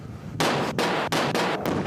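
Loud, close underground mine blasting with several heavy explosive thuds in quick succession, each a broad burst that cuts off sharply before the next, with no voices.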